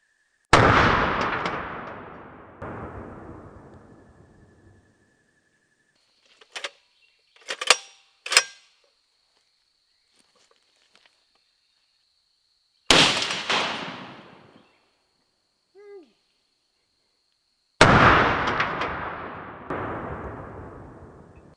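Several deafening booms from a GM6 Lynx, a Hungarian .50 BMG anti-materiel rifle, each blast ringing out over a couple of seconds with long gaps between, plus a cluster of sharp metallic clacks from working the action.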